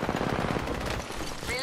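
Gunfire in a battle royale game, rapid bursts of automatic shots crackling close and steady for over a second before thinning out.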